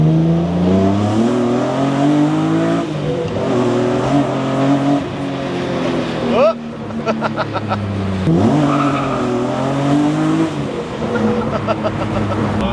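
A BMW E36 M3 with a swapped-in S54 engine revs hard and rises through gears nearby, with a brief tire squeal partway through, loud and continuous.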